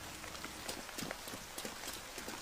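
Rain begins falling in an anime scene as two characters run through it, a faint patter of scattered drops and soft tapping steps against a low background hush.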